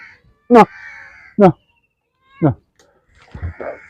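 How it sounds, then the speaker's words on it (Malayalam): A mother cat and her kitten meow beside a fishing net by the water, four distinct close meows spaced about a second apart, the last one softer and drawn out. "ഒരു പൂച്ച കുഞ്ഞും തള്ളയും വന്നിട്ടുണ്ട്"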